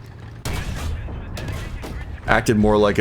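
The main gun of an M3 Lee tank in the video game War Thunder, heard as dense, booming bursts of firing over rumbling battle noise, with a voice rising near the end.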